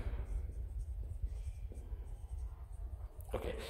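A pen scratches across a board or paper while a drug name is written during a pharmacology lecture on antiviral drugs, a soft, continuous scraping under faint room noise, with a brief louder rustle near the end.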